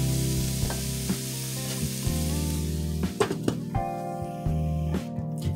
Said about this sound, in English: Then we're gonna place our lid on top and let it simmer on low